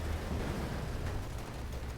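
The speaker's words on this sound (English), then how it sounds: "the M20 explodes as an 8-hitman rocket there causes it to blow up" An M20 armored car blows up after a rocket hit in the Company of Heroes 2 strategy game, a dull, sustained rumbling blast with a heavy low roar filling the whole moment, moderately loud with no talking.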